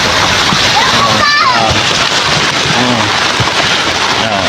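Heavy rain from Typhoon Inday pours down steadily as a dense, constant wash of water and splashing close by, with voices calling out over the downpour.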